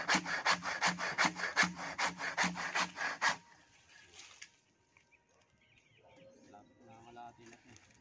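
A hand saw rasps through acacia wood in about a dozen quick, rhythmic strokes for three seconds, then stops, leaving faint background noise and distant birds.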